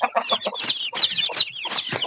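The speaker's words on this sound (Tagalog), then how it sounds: "So marami na tayong mga alagang mga manok ito" Several native chickens cluck close by in quick, overlapping bursts of squawky calls, loud and busy.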